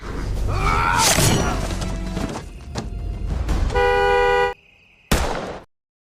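A sustained car horn blares loudly over crashing and rumbling noise, cuts out briefly, then sounds again before silence.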